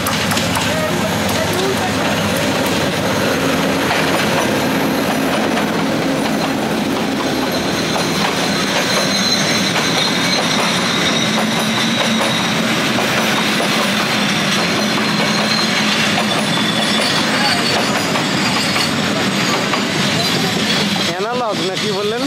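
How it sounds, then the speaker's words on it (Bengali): Steady rumble and rattle of a moving passenger train heard from inside the carriage, continuous and fairly loud for the whole stretch, with people talking over it. "ট্রেনটা অনেক আস্তে আসছে নাকি?"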